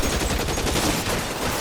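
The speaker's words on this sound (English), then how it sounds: "It's time to take out the Tommy gun again." Tommy gun fire in the LA Noire video game, dense rapid bursts of automatic shots crackling close and loud in a continuous rattle.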